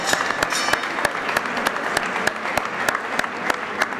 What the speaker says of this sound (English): A big round of applause, a big round of applause.